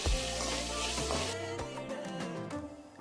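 Whole spices with curry leaves, cumin, pepper, coriander and a couple of cardamom pods roasting in sesame oil, giving a steady close sizzle with some crackling pops and occasional stirring clicks.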